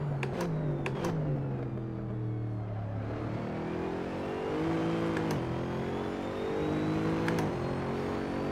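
A Koenigsegg GT3 race car engine at Laguna Seca in the Assetto Corsa sim racing game drones steadily, its pitch falling under braking then climbing through repeated upshifts, with brief clicks of gear changes.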